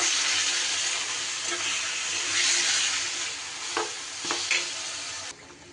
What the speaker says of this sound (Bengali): আর ঘি ভালো করে গরম হয়ে গেলে এবার আমি দিয়ে দেব ম্যারিনেট করা চিকেনটা